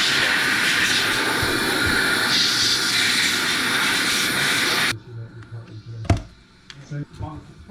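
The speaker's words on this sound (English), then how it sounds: "Makita blower." A Makita blower runs loud and steady with a broad rushing roar for about five seconds, then cuts off abruptly, leaving quieter handling noises and a few knocks.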